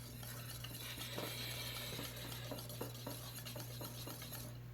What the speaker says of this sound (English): which we're going to be whisking all together